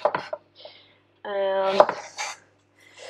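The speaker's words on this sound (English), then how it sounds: "So now we're going to just peel and really finely chop up the ginger." Fresh ginger is peeled and finely chopped on a board, with a few sparse, sharp knife knocks and scrapes separated by quiet gaps, and a short tonal, voice-like sound partway through.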